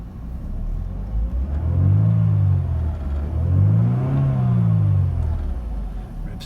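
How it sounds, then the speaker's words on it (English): A 1997 Mercedes SLK230 Kompressor convertible engine revs up twice, each rise and fall smooth and clean, loud and close with no talking. "Revs nice and cleanly"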